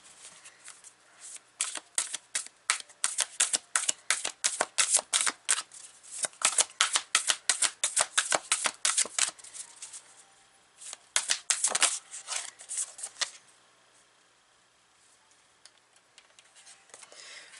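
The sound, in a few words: oracle cards being shuffled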